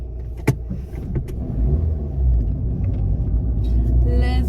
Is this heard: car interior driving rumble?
yes